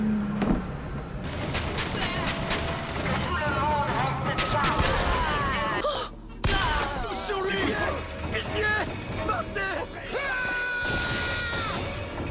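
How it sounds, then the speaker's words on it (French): Machine gun fire in the video game Bioshock Infinite: dense, rapid bursts with crashes and impacts, loud and sustained, mixed with game effects and someone talking and exclaiming over the action. "Ouh, la mitrailleuse."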